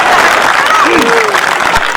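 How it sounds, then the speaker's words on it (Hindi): An audience claps steadily at a Hindi poetry recital (kavi sammelan) in Dalli Rajhara, producing a dense, continuous wash of applause with voices mixed in. "ताली बजाओ, सांस लेना है।"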